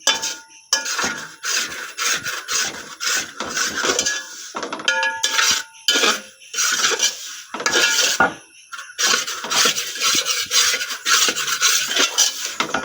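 A spoon scrapes and stirs food around a metal pan until it browns, a steady run of clattering, rasping strokes with brief pauses, close and fairly loud, with no talking.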